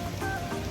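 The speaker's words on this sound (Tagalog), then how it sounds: "Umulan sa labas." Steady rain falls outside a Sports Direct shop in Cardiff, a soft continuous hiss of drops on hard surfaces running throughout the short moment, fairly loud and without any voices.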